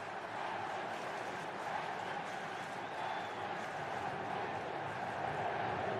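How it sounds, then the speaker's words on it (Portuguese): A dense, steady roar from a football stadium crowd at a Flamengo versus Corinthians Brazilian league match in 2011, chanting a player's name, a continuous wash of voices with a commentator speaking faintly underneath. "E a torcida grita o nome do Petkovic."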